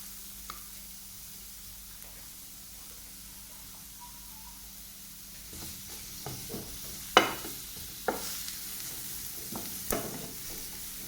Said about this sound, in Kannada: ಈಗ ನಾನು ಸೇಮ್ ಪ್ಯಾನಿಗೆ 1 ಈರುಳ್ಳಿಯನ್ನು ಕಟ್ ಮಾಡಿದ್ದು ಹಾಗೂ 3 ಬೆಳ್ಳುಳ್ಳಿ ಎಸಳನ್ನು ಹಾಕ್ಕೊಂಡು ಫ್ರೈ